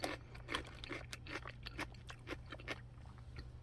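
Crisp, quiet crunches of pickled chicken radish being chewed, a steady run of bites close up, with no talking.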